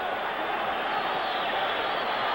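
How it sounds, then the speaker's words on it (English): A 1964 championship boxing crowd roaring in the final round of a title fight, a dense, steady wall of cheering at constant loudness with no breaks, heard alone without commentary. "Listen to this crowd."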